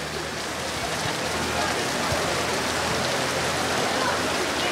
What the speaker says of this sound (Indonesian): saya bersyukur Tuhan kasih hujan